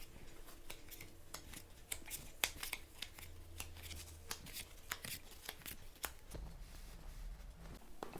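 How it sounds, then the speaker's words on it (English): Tarot cards being laid down face down on a table: soft, quiet papery slaps and slides in an irregular run, with faint background hum. "I'm going to put the cards down face down."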